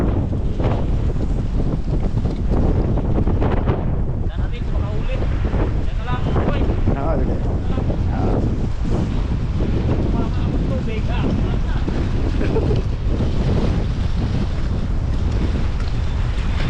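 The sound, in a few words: strong wind at sea on a boat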